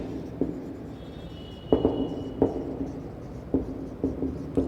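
Chalk or marker strokes on a classroom board while writing out the SI unit of force, faint scratchy taps and short squeaky strokes in an irregular rhythm, no talk.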